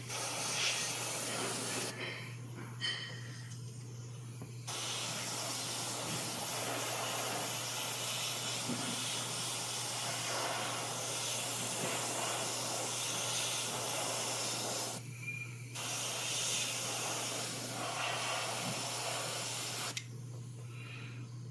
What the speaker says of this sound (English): I'm spraying this paint.